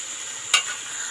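A spice paste of ginger, green chilli and garlic fries in a pan, with one quick stirring scrape over a thin, steady sizzle.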